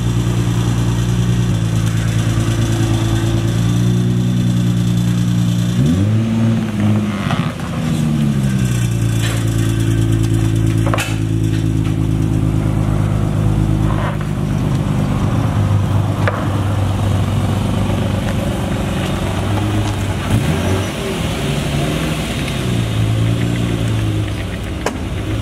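A Nissan 350Z's engine runs steadily and loud throughout, with its tone rising and falling through several revs near the start and again later, the car idling close by in between with no talking.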